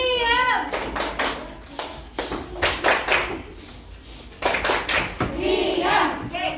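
A class of children performs the tepuk diam clapping routine, with bursts of sharp, rhythmic group hand claps alternating with chanted voices, close and lively.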